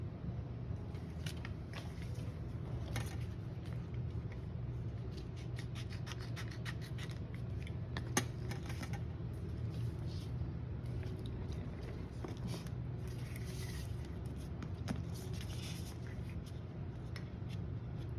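Scissors cutting dynamic kinesiology tape, a run of faint, quiet snips and crisp clicks spread over a long stretch, with soft rubbing and handling noise in between.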